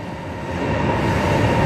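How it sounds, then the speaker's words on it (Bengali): A bullet train at Nanjing South station in China, a loud steady rumble of rail noise close by, building slightly in the brief moment with no talk. "আমরা এখন ট্রেনে উঠব, এই সেই বুলেট ট্রেন।"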